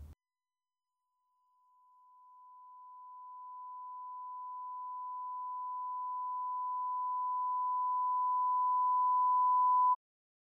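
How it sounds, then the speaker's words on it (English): A pure sine wave test tone holds one steady pitch for about nine seconds, rising gradually from silence to moderate loudness before cutting off abruptly. "I'm going to reduce the level of the sine wave because I don't want to blast your ears out"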